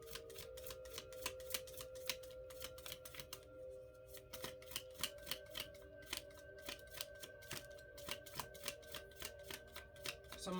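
Tarot cards are shuffled in rapid, crisp riffling bursts, close and quiet, with a short pause before the steady flicking resumes.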